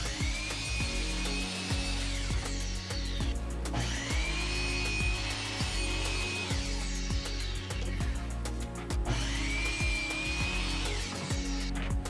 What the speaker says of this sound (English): This stop block allows me to easily cut deeper than the max cut depth of my miter saw.